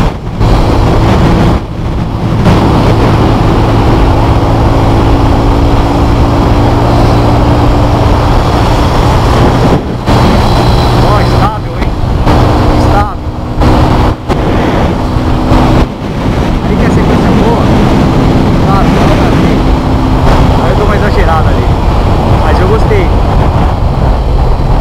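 Loud engine drone of a 2018 Yamaha Fazer 250 motorcycle on the road with heavy wind buffeting on the microphone, continuous throughout with a voice occasionally audible under the roar.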